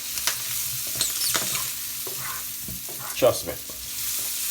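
Very large king prawns fry with garlic in a hot pan, a steady sizzle broken by stirring and scraping clatters, with a brief spoken remark over it.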